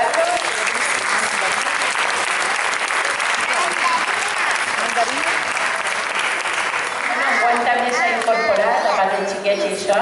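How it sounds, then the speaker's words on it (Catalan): An audience at an end-of-school-year festival applauds loudly and continuously, the clapping later mixing with crowd chatter and voices. "Un aplaudiment,"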